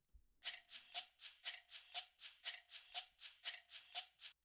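Shaker and tambourine samples treated with compression and the iZotope vinyl plugin tick along in a steady rhythm of bright, tight hits roughly twice per second, with a faint low hum below.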